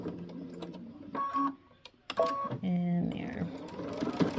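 A sewing machine stitching a dart, heard as short bursts of whirring, stitching and stopping, under a woman's spoken instructions.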